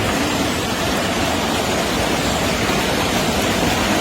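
River water rushes in a steady, broadband wash, loud and close, with no breaks or voices over it.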